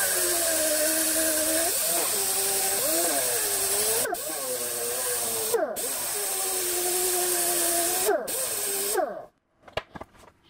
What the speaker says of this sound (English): Then I'll use a larger disc with 120 grit.